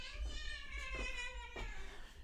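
A pet cat meows softly a few times in a quiet room, the calls faint and close with short pauses between them.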